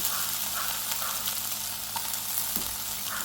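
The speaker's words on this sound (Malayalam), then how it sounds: "അതിലേക്ക് ആ എണ്ണയിലേക്ക് തന്നെ കുറച്ച് ഇഞ്ചി," Ginger fries in hot oil left over from half-cooked shrimp, a steady dense sizzle with faint stirring scrapes, close and continuous.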